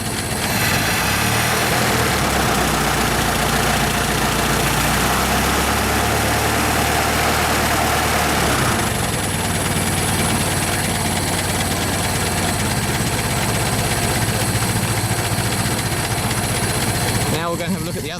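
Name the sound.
Ford Model T engine running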